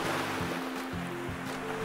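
Sea waves washing on Rameswaram beach, a broad steady roar of surf close by, with faint low tones in the background.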